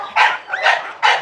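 A French bulldog lets out three short, sharp barks in quick succession, close and loud, with brief quiet gaps between them.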